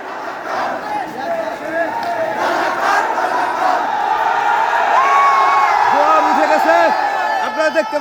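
Large crowd of students on a peaceful street protest march, a dense continuous mass of raised voices shouting and chanting together outdoors for the whole stretch, with individual shouts rising above the roar.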